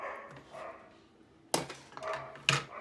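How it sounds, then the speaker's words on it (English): A dog barks indoors, two sharp loud barks about a second apart after a quieter stretch, with faint household noise between them. "that's my dog"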